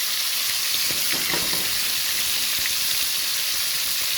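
Beef searing in a hot pot, a loud, steady close-up sizzle with a spitting hiss and a few stirring clicks, heard alone without talk.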